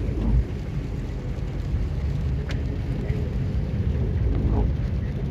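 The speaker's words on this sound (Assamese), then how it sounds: "অলপ অলপ বৰষুণো দি আছে" Light rain patters on a small Alto K10 hatchback driving through hill country, a steady wash of droplets over the low rumble of the moving car, with no talk.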